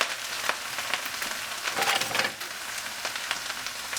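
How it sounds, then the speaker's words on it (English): Halved Brussels sprouts sizzle in hot oil in a pan, a steady close crackling hiss with a few sharper pops, continuing without talk. "hear that sizzle?"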